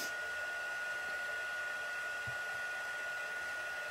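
Heat gun blowing steadily on white embossing powder over black cardstock, a constant loud whooshing hiss of hot air running alone through the whole stretch.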